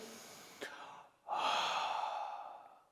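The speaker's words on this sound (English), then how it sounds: "that warming breath, that warming push of the air is the exhalation that's really creating that warming movement in the airflow" Ujjayi pranayama breathing: a short sharp intake is followed by a long, breathy, warm exhalation pushed out through the mouth, close and clear, slowly fading away.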